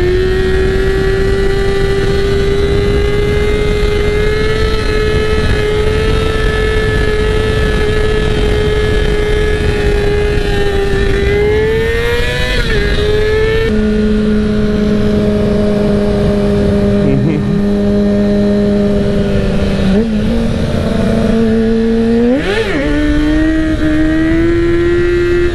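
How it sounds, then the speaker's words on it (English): A motorcycle engine runs loud and close throughout while the rider attempts wheelies in front of a police officer, holding a steady drone whose pitch rises and dips with several quick throttle blips. "Trying to do wheelies in front of the cop is not an easy task."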